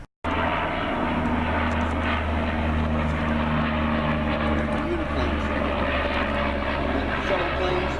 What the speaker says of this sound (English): Shuttle planes.